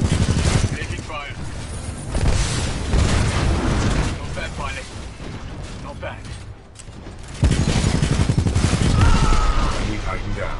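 Titanfall 2 combat: sustained gunfire with heavy booms and explosions, loud and dense, easing briefly before surging again, with in-game voices talking over the action.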